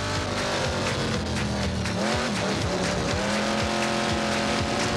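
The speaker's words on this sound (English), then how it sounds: "And sure enough, Steve Richards spun him out" Race cars from a 1992 New Zealand teams nationals event roar continuously around a circuit, with engines droning loud and close and tires squealing and skidding as one car is spun out.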